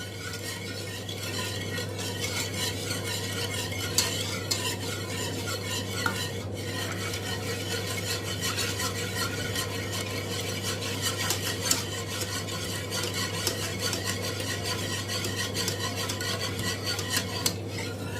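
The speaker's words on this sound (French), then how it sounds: "Il faut bien mélanger." A melted mixture for a fruit tart stirred in a pan over a gas flame: steady, continuous scraping and clinking of a utensil against the pan, close and even throughout, with a low burner hum and no speech.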